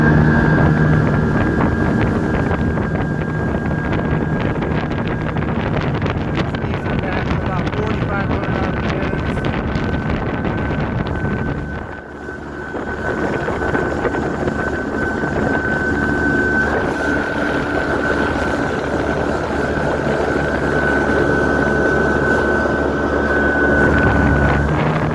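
A Boston Whaler motorboat runs up on plane, its engine a steady, loud drone mixed with heavy wind buffeting the microphone and water rush, dipping briefly midway before surging back.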